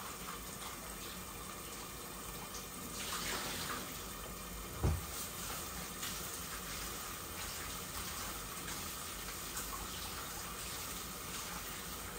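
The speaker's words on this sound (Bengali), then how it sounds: "মাছ আমি ধুয়ে রেখেছি, এখন আবারও ধুচ্ছি।" Raw fish is washed under running water, a soft continuous trickle and splash heard at a distance and faint, with one brief thud partway through.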